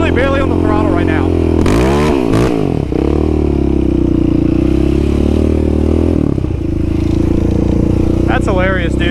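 Yamaha Raptor 700 ATV spinning on grass, its engine droning loud and close with sharp throttle blips and rising, falling revs, while voices talk over it.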